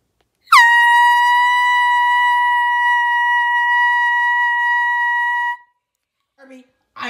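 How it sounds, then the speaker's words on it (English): A single loud air horn blast sounds for about five seconds, bright and steady, then cuts off into silence before a few faint voice fragments follow. "I told you to put the air horn down."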